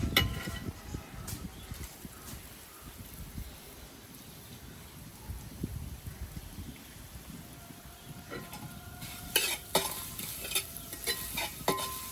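Coriander seeds, chillies and grated coconut roast in a pan, a faint dry sizzle with scraping stir strokes, followed by sharper clatters of a spoon toward the end.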